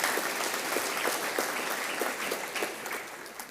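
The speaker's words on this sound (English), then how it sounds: "That's worth a round of applause, isn't it?" Steady audience applause, many hands clapping densely and evenly throughout, fairly loud and close with no talking.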